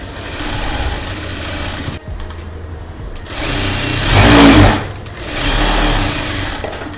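A sewing machine stitches lace onto a baby frock, a steady loud mechanical whirr that pauses briefly, swells in a louder run, then continues.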